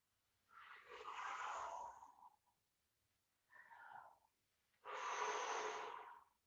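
Three deep, forceful breaths during a hip mobility exercise on hands and knees, each a long airy exhale or inhale separated by short pauses, close and clear in a quiet room.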